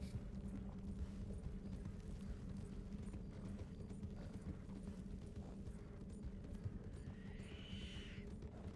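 Horses in the video game Red Dead Redemption walk with a steady, close clip-clop of hooves over a low rumbling ambient bed. A brief higher tone rises near the end.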